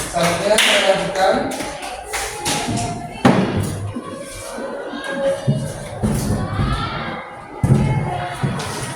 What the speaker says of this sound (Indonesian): Jawabannya semuanya tepuk tangan buat kelas pendapat B.